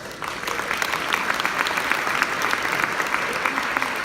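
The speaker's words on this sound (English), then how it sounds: "Let's give all of our sponsors a round of applause for the support of the Girl Scouts." Sustained applause from a seated luncheon audience honoring Girl Scouts sponsors, a dense, steady wash of many hands clapping at moderate volume throughout, with no voices over it.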